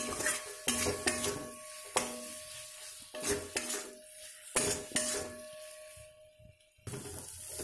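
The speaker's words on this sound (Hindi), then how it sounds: "इसको मैं थोड़े से फ्राई करूंगी क्योंकि पहले से मैंने आलू फ्राई करके रखे थे" Potatoes fry and get stirred in a pan for an egg curry, with repeated scraping, clinking utensil strokes against the pan over a soft sizzle, close and fairly quiet, no talking.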